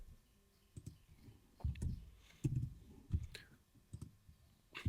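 Computer mouse clicks while setting up conversion tracking, sharp isolated clicks in an irregular sequence, close and quiet, with soft handling noises between them.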